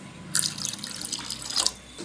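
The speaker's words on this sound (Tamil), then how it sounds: "இதில் கொஞ்சம் தண்ணி விட்டுக்கலாம்" Water pours into a bowl of salted millet flour in a brief trickling stream, with splashy bursts at the start and end of the pour, close and moderately loud.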